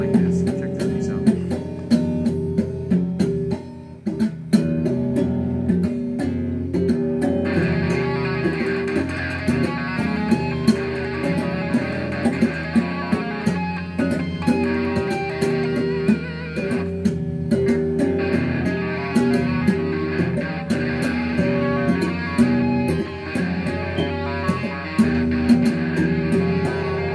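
Electric guitar plays a fast run of tapped, chiming harmonic notes with a rapid, percussive attack, continuous and fairly loud.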